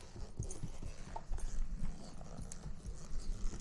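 Horses walk nearby with soft, irregular hoof clops on the ground, moderately loud amid faint outdoor background sounds.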